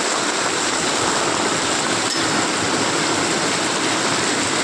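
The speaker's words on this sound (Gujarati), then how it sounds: "તો ગાઈસ વાયકન અમારે પાણી જાય બધું ગામનું, આખા ગામનું" Floodwater from a village rushing past during heavy rain in a loud, unbroken roar that stays steady and dense throughout, with no pauses.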